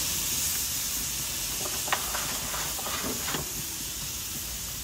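Large tomahawk steak on a grill giving a steady bright hiss and sizzle throughout, with a few faint crackles and no talk.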